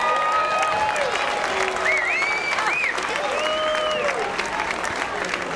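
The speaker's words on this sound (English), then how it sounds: "Let's have a round of applause for the idea, if you build it, they will all come. Big round of applause" Crowd applause at the opening game of a baseball season, a steady, loud wash of clapping and cheering across the whole stretch, with whistles and voices rising over it.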